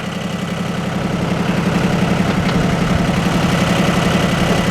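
A tractor engine in low range labouring against a big heavy oak log headed to the sawmill, a steady low drone with a rhythmic knocking pulse that holds constant and close throughout.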